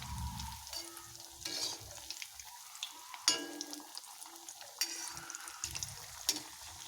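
Banana flower vadai fry in oil over a low flame, a soft, steady sizzle broken by occasional scraping and stirring clinks of a utensil.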